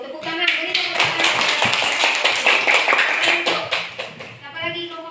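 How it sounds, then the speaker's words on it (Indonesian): A classroom of students claps after a pupil finishes presenting, a dense burst of hand claps lasting several seconds with a teacher's voice and chatter over it at the start and end. "Beri tepuk tangan"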